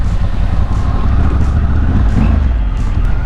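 A motorcycle rides along a mountain road through the clouds near a canyon, its engine drone and wind roar forming a loud, steady rumble with no talking.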